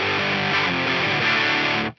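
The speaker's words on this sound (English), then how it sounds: "We've got punk distortion." A Yamaha GEP 50 effects unit's punk distortion preset on guitar gives a thin, trebly, heavily clipped tone, loud and sustained, that cuts off sharply at the end.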